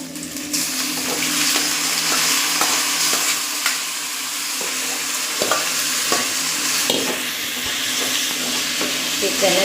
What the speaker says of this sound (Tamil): சிக்கனை இப்போ இதில் சேர்த்திக்கலாம்.